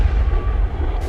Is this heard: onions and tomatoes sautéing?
no